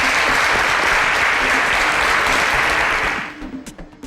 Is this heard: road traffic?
no